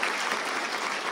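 Applause for a group of children at a miners' march rally, a dense steady patter of many hands clapping that holds evenly through a brief moment with no voices on top.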